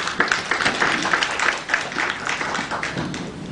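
Audience applause at a workshop on waste reduction welcoming a speaker, a steady wash of clapping at moderate level filling the moment, with faint voices mixed in.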